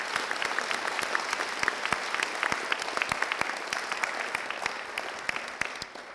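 A modest audience at a dedication ceremony for a school career and technical center claps, the separate claps easy to pick out in a lively, uneven patter that thins toward the end.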